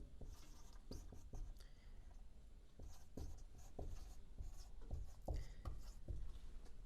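A pen writing lab test names on paper at a doctor's desk, soft scratching strokes in short irregular bursts, close and quiet against a faint room hiss.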